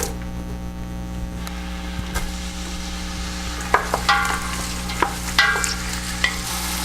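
Onions dropped into hot olive oil in a pot, a steady sizzle over mains hum, then several sharper clatters and stirring scrapes in the second half, with no speech.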